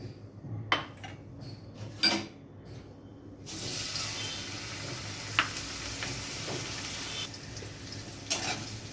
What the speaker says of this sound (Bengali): কড়াইতে আমি তেল দিয়ে উচ্ছেগুলো আগে ভেজে নেব।